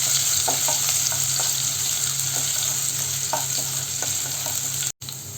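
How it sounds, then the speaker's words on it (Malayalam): Chopped garlic and ginger sauté on high flame for a tomato egg stir fry, sizzling loudly and steadily with light stirring scrapes throughout. The sound drops out for an instant near the end. "നമുക്കിതിലേക്ക് അരിഞ്ഞു വെച്ചിരിക്കുന്ന വെളുത്തുള്ളിയും അതുപോലെ തന്നെ ഇഞ്ചിയും ചേർത്ത് കൊടുക്കാം. നന്നായിട്ടതൊന്ന് വഴറ്റിയെടുക്കാം."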